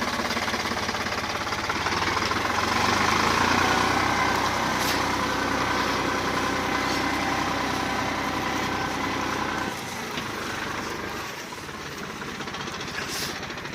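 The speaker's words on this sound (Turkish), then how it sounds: "Traktörümüz geçiyor." A heavy tractor engine rumbles loudly and steadily nearby, its clattering drone easing slightly toward the end as it moves past.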